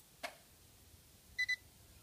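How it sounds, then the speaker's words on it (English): A quiet click as the key is turned on, followed by two short, high electronic beeps in quick succession from newly installed gauges on a 7.3 engine, faint against a near-silent background. "Beeps and everything, all this sucker's working."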